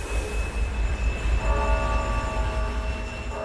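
A Siberian ice train rumbles past close by, with a deep continuous roar and a steady high whine that settles into sustained tones partway through.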